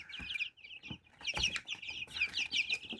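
Mechelen Cuckoo chickens, a large, calm breed with barred cuckoo plumage, cluck in a series of close, short, repeated calls with brief pauses between bursts, and no one speaks.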